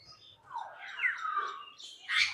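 Birds call in a safari park, a run of bright chirps and warbling notes rising and falling at close range, ending in a sharper high squawk-like burst.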